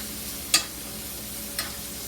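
A steak cooks on high heat in a pan of butter and oil, with a soft steady sizzle and two brief spoon clinks as it is basted, close and fairly quiet.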